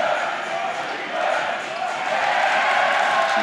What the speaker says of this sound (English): Crowd going crazy here for the Tigers.